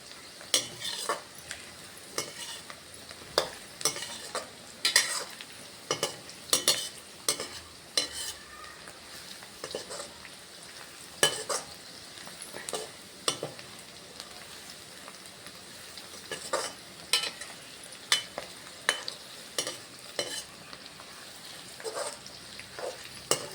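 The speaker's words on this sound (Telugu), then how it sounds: "బాగా వేగాలండి" Cucumber and tomato curry frying in a pan, a steady soft sizzle broken by frequent scraping and clinking as a utensil stirs, close and alone with no voices.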